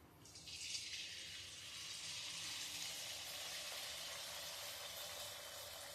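Pitha frying in hot oil in a kadai, giving a steady, close hiss and sizzle that swells at the start and then holds evenly throughout without talk.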